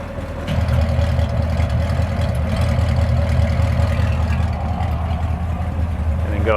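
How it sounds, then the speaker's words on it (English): A car exhaust runs with its MVP muffler valves opened, a steady deep low rumble at idle holding loud and even throughout. "We're going to open up the MVP muffler valves with the remote control."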